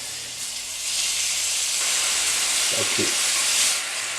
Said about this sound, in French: On laisse fondre le beurre et on rajoute les lanières de bœuf.